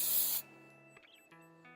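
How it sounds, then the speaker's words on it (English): A single short burst of Monat Studio One hairspray hisses close to the microphone, then cuts off, leaving quiet background tones. "Así que ahora lo último que voy a hacer es usar un poquito de hairspray."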